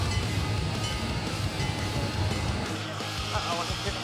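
A small amusement park train runs on its track at Adventureland, giving a steady, continuous rumble with no breaks, fairly close and loud throughout.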